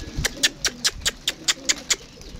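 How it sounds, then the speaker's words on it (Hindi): Pigeons cooing outdoors in bright sun while feeding on scattered grain, a steady series of about eight soft, rhythmic coos at close range with no one talking. "और कबूतर शबूतर बाहर माशाल्लाह निकाले हुए हैं, ये दाना शाना खा रहे हैं"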